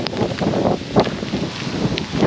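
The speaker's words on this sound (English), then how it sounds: "It's windy and cold." Cold wind gusts along a riverside path in Kajaani, Finland, with a steady broadband rush and buffeting on the microphone, occasional soft scuffs of walking beneath it.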